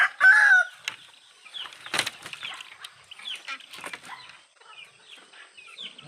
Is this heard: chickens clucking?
yes